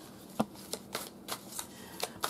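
A deck of tarot cards shuffled by hand, giving a series of soft, quick riffling taps about every half second, close and fairly quiet.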